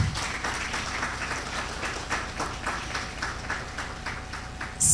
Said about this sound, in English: Noguchi deserves an applause.